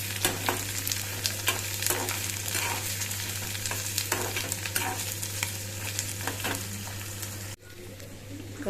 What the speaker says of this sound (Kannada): ಈರುಳ್ಳಿ ಮತ್ತು ಕರಿಬೇವಿನ ಸೊಪ್ಪು, ಕೊತ್ತಂಬರಿ ಸೊಪ್ಪು ಎಲ್ಲ ಹಾಕಿ ಫ್ರೈ ಮಾಡ್ಕೊತಾ ಇದ್ದೀನಿ